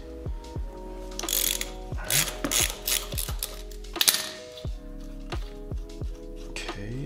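Ratchet wrench clicking in repeated bursts while a Harley Sportster motorcycle's axle pinch bolt is loosened, sharp close metallic ratcheting with pauses between strokes, no talking.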